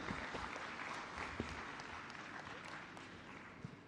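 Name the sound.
applause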